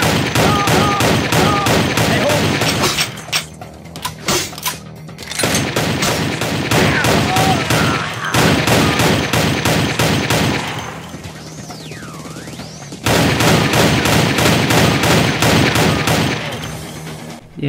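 Rapid bursts of video-game gunfire from Vampire: The Masquerade rattle in long rhythmic volleys with short pauses between, loud and close, with a few distant effects mixed in and little talk.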